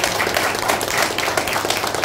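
A lecture audience claps together in a dense, continuous burst of applause, loud and close, holding steady for a couple of seconds.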